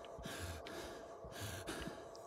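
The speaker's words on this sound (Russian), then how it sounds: "Да не дыши ты так." A video game character in Get Even breathes heavily, with rhythmic rasping inhales and exhales repeating close and steady, and no speech over them.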